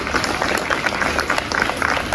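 At a school Student of the Year ceremony, a crowd gives a student a short burst of lively applause, many hands clapping together with no talking.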